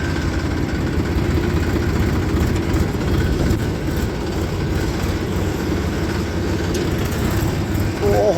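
A tractor engine rumbles steadily and loudly at close range, a constant low drone with no breaks.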